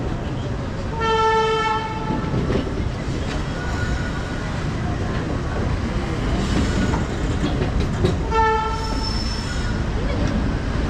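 The Jan Shatabdi Express, a superfast train running from Mayiladuthurai to Coimbatore in Tamil Nadu, rumbles along the rails with steady wheel noise, and its horn sounds twice in long blasts, heard from on board.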